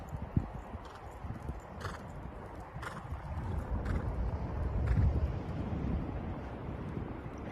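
Hooves clop in a steady rhythm as a horse moves past outdoors, fairly faint, with light wind noise in the background.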